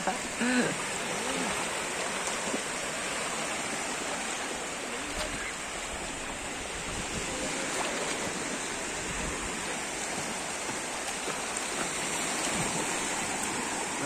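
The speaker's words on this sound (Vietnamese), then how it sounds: "Sóng to thế này mà." Sea waves breaking on the beach at Kỳ Xuân, Hà Tĩnh, at ebb tide, a continuous loud wash of surf close by, with faint voices now and then.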